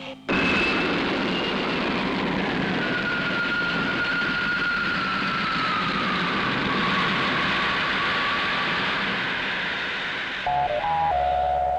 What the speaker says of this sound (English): Ready to lift. Takeoff program starting now.